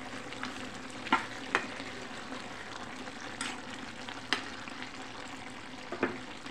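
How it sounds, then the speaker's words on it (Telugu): An eggplant and tomato curry sizzles steadily in a pan while it is stirred, with a few sharp spatula scrapes against the pan breaking through the constant frying hiss. "ఇలా మధ్య మధ్యలో ఒకసారి తీసి కలుపుకోండి, కలుపుకుంటూ ఉండాలి"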